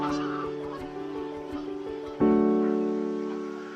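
A flock of geese honks together at a nature reserve, a dense chorus of calls that gets louder partway through as many take to the air, then carries on steadily.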